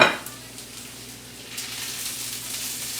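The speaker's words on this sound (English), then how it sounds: "What I want to do is caramelize my onions, my mushrooms, and go ahead and put my asparagus in here" Onions, mushrooms and asparagus sizzle together in a pan while caramelizing for a steak dish, a steady close frying hiss after an opening clatter, rising slightly louder partway through with no talk.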